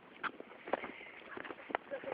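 A tournament horse's hooves clop in an uneven sequence of hollow knocks at close range, fairly faint, against a soft outdoor background.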